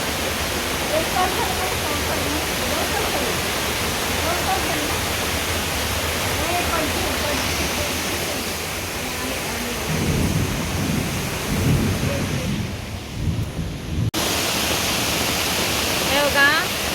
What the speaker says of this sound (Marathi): पाऊस चालू झाला आहे